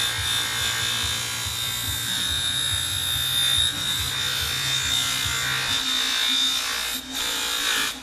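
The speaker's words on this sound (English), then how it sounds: "I'm gonna buff up this little brass nozzle here, little tip." Polishing wheel buffing a small brass nozzle tip, a loud, continuous high whine with a rough rubbing grind underneath that eases off partway through and then carries on steadily.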